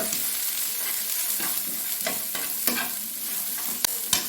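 Okra and peanut stir-fry with salt, garlic and chili being stirred in a pan, with a soft steady sizzle under repeated scraping and clinking strokes of a spoon, close and fairly quiet, no talking.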